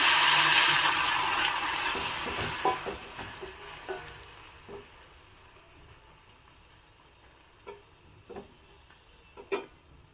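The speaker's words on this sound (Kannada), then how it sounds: "ಇದಕ್ಕೆ ಒಂದು ಸ್ವಲ್ಪ ನೀರು ಹಾಕ್ತಾಯಿದ್ದೀನಿ" Water splashes into snake gourd frying in hot oil in a pan, setting off a loud burst of hissing sizzle that fades over several seconds into a low simmer, with a few soft clinks and stirring knocks afterward.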